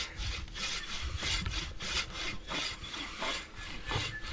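A Silky Katana Boy hand saw rasps through wood in steady back-and-forth strokes, roughly a dozen pulls, close and fairly loud with no voices.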